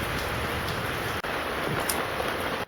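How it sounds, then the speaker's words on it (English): Steady rain falls at a farm stay villa in Bali, a dense even hiss of drops on surfaces, continuous and close, with a brief break near the middle. "Raining is romantic at Syria Farm Stay."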